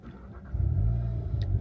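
A 2026 VW Golf GTI 50 engine turning over and catching into a deep, loud rumbling idle, close by with no talk over it.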